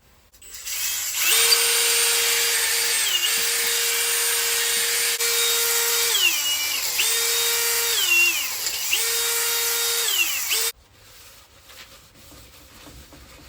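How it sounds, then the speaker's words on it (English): A power drill whirs loudly and continuously, its pitch dipping and rising as the load changes, then cuts off abruptly, leaving quiet. "Drill."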